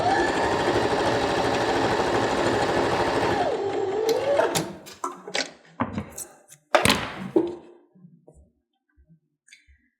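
A sewing machine stitches two quilt blocks together in a fast continuous whir for several seconds, then stops and gives way to scattered clicks and thunks of handling, close by.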